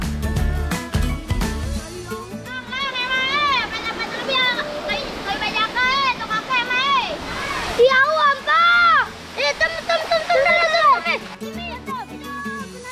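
A waterfall in Sumbawa rushes continuously beneath lively children's voices and chatter that dominate most of the stretch.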